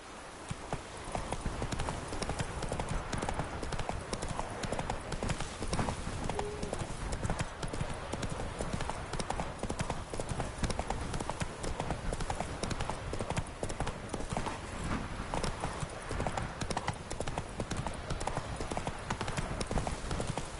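Hoofbeats from a galloping horse in Witcher III: Wild Hunt pound in a rapid, steady rhythm, loud and close and continuous for the whole stretch.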